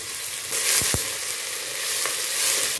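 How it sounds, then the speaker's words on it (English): Onions tipped into a hot pan for a batch of jollof rice sizzle steadily and loudly, with a few stirring scrapes partway through and no talking. "So I'm adding in the onions."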